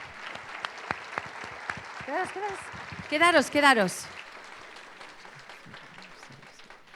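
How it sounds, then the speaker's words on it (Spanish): A church congregation applauds together, a soft, scattered patter of clapping that stays under someone speaking briefly. "Vamos a darles un aplauso."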